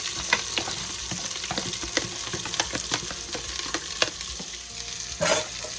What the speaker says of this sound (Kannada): ಒನ್ ಆ್ಯಂಡ್ ಹಾಫ್ ಮಿನಿಟು ಚೆನ್ನಾಗಿ ಎಣ್ಣೆಯಲ್ಲಿ ಫ್ರೈ ಆಗಬೇಕು